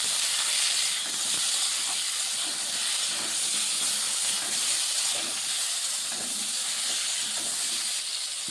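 Potatoes frying in a pan with kohlrabi cooking, a steady close sizzling hiss lasting the whole stretch without talk.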